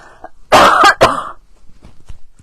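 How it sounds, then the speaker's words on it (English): A single loud, harsh cough bursts out close by, followed by a second shorter hack and some quiet shuffling. "I'm going to cough, sorry."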